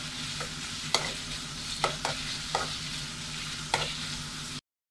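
Onions sautéing in coconut oil for a home-style egg curry, with a loud steady sizzle and several sharp scraping stir strokes against the pan, then an abrupt cutoff to silence near the end.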